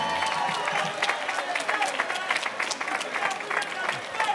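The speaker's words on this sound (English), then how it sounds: "Let's give a huge round of applause." Audience applause at an African heritage reception at Gracie Mansion, a steady wash of many hands clapping with light crowd murmur and cheering mixed in, sustained and fairly even throughout.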